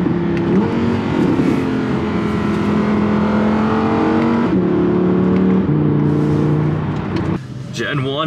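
An Audi R8 V10 revs in loud rising and falling sweeps, the engine note climbing and dropping several times close by before cutting off near the end, with people talking over it.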